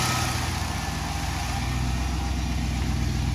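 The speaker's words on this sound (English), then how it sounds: "It idles at about 900 RPM without an idle air valve." Steady, low engine idle of a Volvo 240 at about 900 RPM with the throttle cracked open and no idle air valve, an even, continuous hum heard from behind the car.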